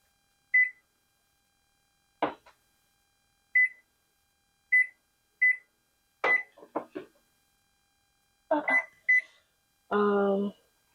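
Short electronic beeps from a microwave oven's keypad and timer sound one at a time at irregular intervals, close by, mixed with brief speech and rustling handling noises and ending in a longer steady tone.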